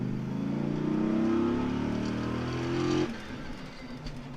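A 2006 Dodge Ram SRT-10 pickup's big engine revs loud and close, its drone climbing steadily in pitch for about three seconds before the throttle lifts and it settles into a rougher, lower rumble.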